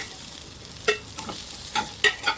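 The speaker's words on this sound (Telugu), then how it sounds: "ఇప్పుడైతే నేను ఓన్లీ బెండకాయలు ఫ్రై చేసేసుకుంటాను." Okra dry-fried in a pan gives a soft sizzle, with several sharp scraping strokes of a spatula stirring it. The strokes come irregularly and close up, without talk.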